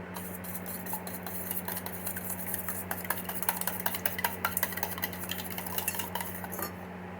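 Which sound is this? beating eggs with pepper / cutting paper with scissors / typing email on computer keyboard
beating eggs with pepper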